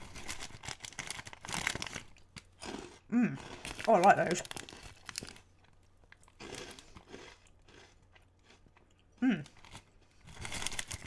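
Crunchy pub-style snacks, peanut-style nibbles, crackle and crunch in short bursts of crinkling and chewing, close to the mic, with a person talking between bites.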